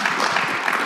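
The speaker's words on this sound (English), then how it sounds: "Let's give a round of applause for Trust Over IP for all of their hard work" Audience applause at the Rare Evo 2023 conference, a brief dense wash of many hands clapping at once, steady and fairly loud.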